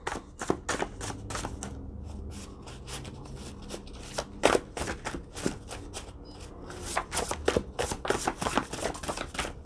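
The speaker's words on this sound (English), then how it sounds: "Shuffling the deck." Cards riffle and snap in repeated bursts, a deck shuffled several times close up with short pauses between rounds.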